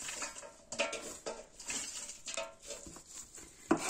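Chicory shoots and other wild greens dropped into a hot frying pan give a close, uneven patter of light clattering and sizzling hits, with soft pan and utensil knocks scattered through, no voices.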